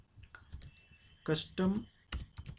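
Keys on a computer keyboard are typed in short, uneven bursts of light clicks, close by, while someone speaks over them.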